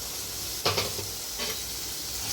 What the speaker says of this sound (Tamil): இது நல்லா பொன்னிறமாக வர வரையும் இந்த வெங்காயத்தை வதக்கிக்கலாம்.